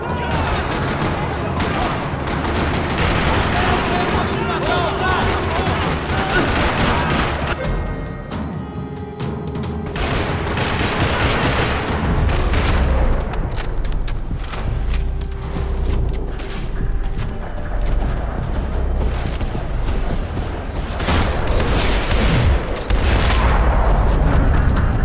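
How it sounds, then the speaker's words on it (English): Sustained gunfire rattles through a parking lot in the video game Max Payne 3, with dense bursts and scattered single shots across the whole stretch, loud and close, briefly thinning midway before resuming. "Another parking lot rattling with gunfire."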